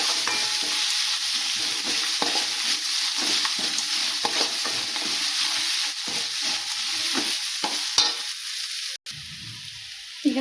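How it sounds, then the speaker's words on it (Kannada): Grated raw mango stirred in a hot pan, a bright steady frying hiss with frequent quick spatula scrapes throughout, close and fairly loud, briefly cutting out near the end, with no speech. "ಈಗ ಮಾವಿನಕಾಯಿ ತುರಿ ಹಾಕ್ತೀನಿ. ಇದನ್ನು ಚೆನ್ನಾಗಿ ಮಿಕ್ಸ್ ಮಾಡ್ತಾ ಇರ್ತೀನಿ."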